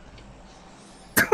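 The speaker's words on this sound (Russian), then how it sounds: "Покашливает еще немножко" A single short cough cuts sharply through a quiet background of faint noise, close and fairly loud, followed by a brief smaller catch of breath, with no talking.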